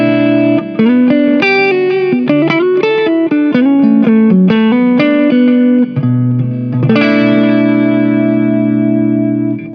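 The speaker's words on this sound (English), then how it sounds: "this is the clean sound that we get." Clean electric guitar through a Joyo UZI pedal's clean channel, playing a melodic run of picked notes with light reverb and delay, ending on a sustained ringing chord.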